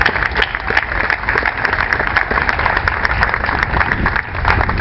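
Sustained applause from a sizable crowd, dense steady clapping that holds at a loud level throughout with no voices standing out.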